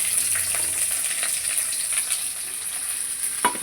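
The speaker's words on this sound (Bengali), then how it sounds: "ওই যে কালো জিরে ফোড়ন দিয়ে দিলাম। তারপরে দেবো পেঁয়াজ" Black cumin (nigella) seeds crackle in hot oil with a close, continuous sizzle and a few sharp spits and stirring taps, ending in a brief louder burst as onion goes in.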